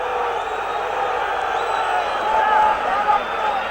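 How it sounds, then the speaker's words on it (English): A 1970s Leeds United football crowd reacting to a penalty appeal, a broad roar of many voices swelling slightly midway, heard at a distance from within the stadium. "listen to the reaction of the crowd"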